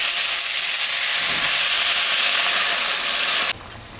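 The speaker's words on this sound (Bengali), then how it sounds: "কষানো হয়ে গেছে, এখন আমি সামান্য জল দিই।" Water poured into a sizzling curry in a hot pan raises a loud, steady rushing hiss of steam that cuts off abruptly near the end.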